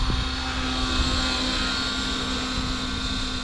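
Align T-Rex 550X RC helicopter flying outdoors in windy conditions, its rotor and motor producing a steady, loud, high-pitched whine with a constant drone and no speech.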